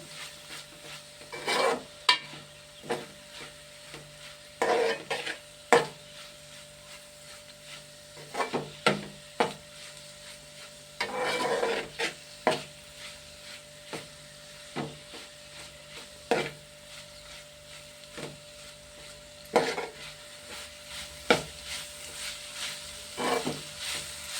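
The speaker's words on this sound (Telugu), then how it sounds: "అల్లం పేస్ట్ ఇందులోనే పచ్చివాసన పోయేగా కొంచెం వేపుకోవాలి" Ginger paste frying in a pan, a low sizzle under repeated bursts of a spoon stirring and scraping, the strokes coming in uneven clusters, with no talking.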